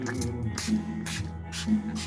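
Several short hissing bursts of aerosol spray onto a Mercury outboard motor, close by, with brief pauses between them over a low background hum.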